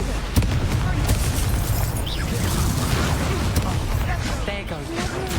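Confringo fire spell blasting in the Hogwarts Legacy video game, a loud sustained booming burst of crackling explosion noise with scattered sharp pops, with game voices over it.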